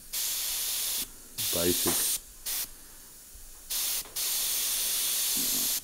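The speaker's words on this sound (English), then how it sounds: "because of the airbrush, you can tone that red down to 100 different colours red, or any colour you can spray lighter or darker" Short bursts of an airbrush spraying paint, a loud close steady hiss that switches on and off several times, with someone talking briefly between bursts.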